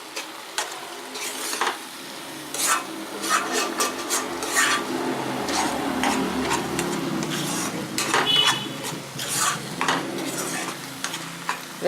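A spoon scrapes and clinks around a pan as a coconut filling mixture with cardamom powder is stirred, giving irregular close scraping strokes over a soft sizzle.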